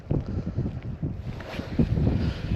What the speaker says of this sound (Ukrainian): Тут ще і вітер якраз боковий такий